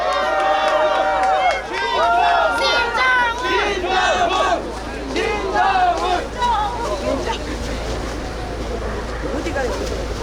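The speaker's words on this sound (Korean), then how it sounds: "뜨거운 박수 부탁드리겠습니다." A large crowd cheers and shouts at a Democratic Party presidential campaign launch rally in Suncheon, with dense overlapping voices and excited calls sustained throughout at a steady, loud level.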